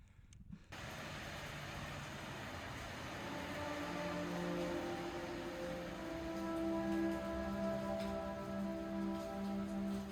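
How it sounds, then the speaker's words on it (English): Steady torrential rain pours down in Moab, Utah, a dense hiss of drops drumming on surfaces, continuous and loud throughout with no voices. "With torrential rain coming down in Moab"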